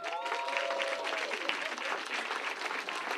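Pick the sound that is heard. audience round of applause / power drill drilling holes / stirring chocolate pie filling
audience round of applause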